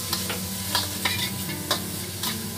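Garlic sizzling in a hot pan for an Indonesian stir-fried tofu dish, a steady close frying hiss broken by several sharp scraping stirs of a spatula, with no voices.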